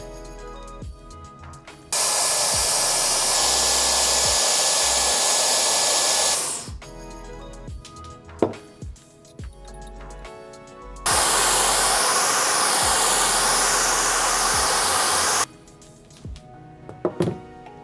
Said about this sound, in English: that was too big of a section for the whole dryer to catch it